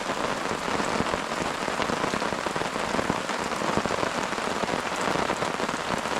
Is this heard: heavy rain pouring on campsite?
yes